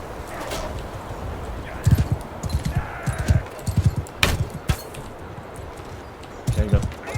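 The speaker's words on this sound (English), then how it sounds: "Let's go with horse archery." Horse hooves clatter in brief, rhythmic clusters of clip-clop during mounted horse archery training in the video game Mount and Blade II Bannerlord, close and fairly loud over a steady background bed.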